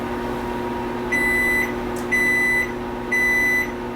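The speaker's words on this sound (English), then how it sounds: "With the constant sound of the timer, Randall Livingood continues to bake his dai" Kitchen timer beeping in a bread bakery where a baker makes daily sourdough loaves: three evenly spaced high electronic beeps, each about half a second long, over a steady hum.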